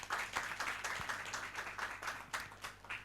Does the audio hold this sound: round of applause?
yes